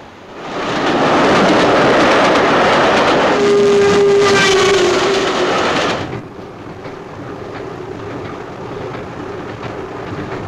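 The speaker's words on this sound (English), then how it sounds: "from Halifax, it's uh, a long journey on a train." A train rumbles along steadily, loud and close, with a drawn-out whistle sounding midway before the roar eases to a lower rolling hum.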